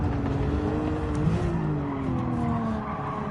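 Racing engine and tyre skid from a Honda NSX in Gran Turismo 7, a steady loud roar with squealing tyres and shifting engine tones throughout, no voices.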